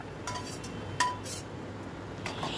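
Fried ingredients for a semolina sweet are moved from a kadai into a bowl with a few sharp utensil clinks and scrapes, one louder knock standing out among faint clatter. Nobody speaks.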